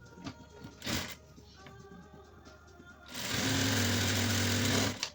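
An electric sewing machine stitches a salwar pocket in a loud, steady buzzing run through the second half, preceded by a few handling clicks and short whirs.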